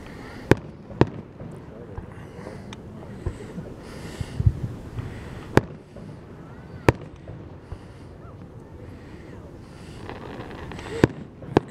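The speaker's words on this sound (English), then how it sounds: "Certainly been no disappointment here with those fireworks." Fireworks show in Troy, Ohio: scattered sharp cracks and distant booms at irregular intervals over a constant crowd murmur, with faint voices in the background.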